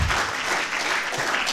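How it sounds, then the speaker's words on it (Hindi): Loud audience clapping at a weekly religious discussion gathering, a brief, dense burst of applause heard alone and steady throughout. "जोरदार तालियां बजाकर"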